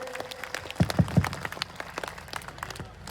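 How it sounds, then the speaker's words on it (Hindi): A few scattered hand claps ring out at an outdoor village welcome ceremony for the Banswara-Dungarpur MP in Nahli; three sharp claps stand out close together, with looser clapping around them. "सब उनका एक बार तालियों से स्वागत करें।"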